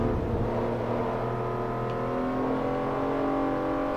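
A race car engine in Forza Motorsport 3 at a Hyundai owner's meeting event, droning with a steady, loud, harmonic whine that shifts slightly in pitch while holding high revs, with no talk.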